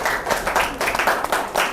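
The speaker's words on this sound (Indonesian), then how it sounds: "Kasih aplaus dulu semuanya." Students in a classroom clap together in a short burst of applause, many hands patting quickly and unevenly, close and fairly loud.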